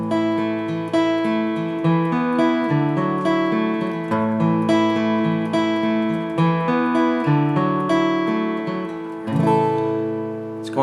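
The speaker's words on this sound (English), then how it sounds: "the second part of the verse is picking through the chords versus just strumming through them." Guitar picking through a song's chord progression note by note instead of strumming; a close, steady flow of arpeggiated chords rings out continuously for about eleven seconds with no voice.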